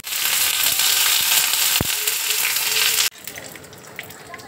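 Mustard seeds and curry leaves crackle and sizzle loudly in hot oil for a Sujir uttapam, a dense steady frying hiss with a sharp pop near the middle, then the sizzle abruptly drops to a quieter simmer.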